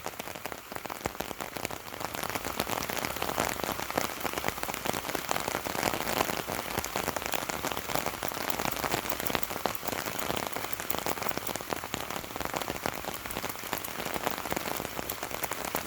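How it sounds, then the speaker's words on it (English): Steady summer rain pattering on an umbrella overhead, a dense, even crackle of drops that stays constant throughout with no talking. "you can hear the rain on the umbrella"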